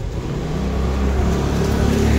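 A car engine runs with a steady low rumble and a slight rise as if revving, close and continuous without speech.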